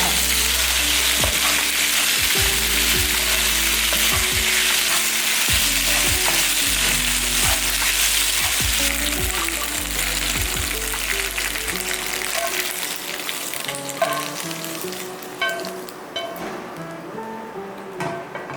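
Macaroni roasting in ghee for a milk payasam, a steady loud sizzle with repeated scraping stirs and clinks of a utensil against the pan, thinning out toward the end.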